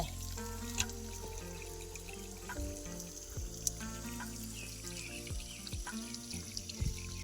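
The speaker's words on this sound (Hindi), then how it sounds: "बहुत मिट्टी लगा है, साफ करके धोती हूँ।" Muddy radish washed under a running kitchen tap, with steady water flow and splashing plus occasional clinks and knocks of handling close by.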